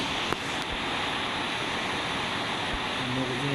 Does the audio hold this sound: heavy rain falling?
yes